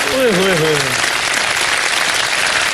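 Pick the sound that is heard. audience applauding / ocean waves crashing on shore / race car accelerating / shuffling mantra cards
audience applauding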